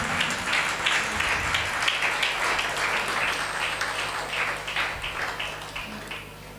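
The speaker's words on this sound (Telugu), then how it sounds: "గట్టిగా చప్పట్లు కొట్టి దేవుని నామాన్ని మహిమపరుద్దాం" A church congregation at a Christmas service claps loudly and rhythmically in unison, a dense, steady wall of beats that holds strong before easing slightly at the end.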